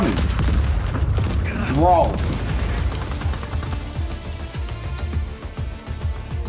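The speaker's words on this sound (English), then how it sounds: "Every 2 seconds, an explosion." Explosions and gunfire from the Just Cause 4 video game, with loud booms and rattling shots continuing throughout while someone talks over the action.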